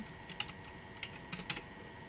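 Faint typing on a computer keyboard, a few soft scattered key taps over a low steady background hum.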